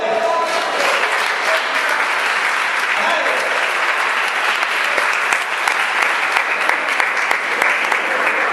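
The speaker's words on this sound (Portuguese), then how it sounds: "Vamos botar uma salva de palmas para ele." A church congregation applauds steadily and enthusiastically during a sermon, sustained clapping filling the room from start to finish.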